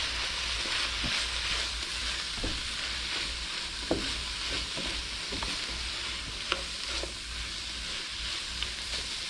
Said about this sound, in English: put a little garlic in here. Get this all stirred in.